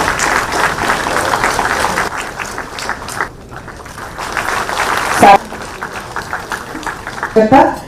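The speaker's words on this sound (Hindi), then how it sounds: "तालियों की गूंज भी रही।" Audience applause rings out at a government ceremony in India where the chief minister hands appointment letters to 527 selected candidates. The clapping is dense at first, then thins and continues under spoken announcements.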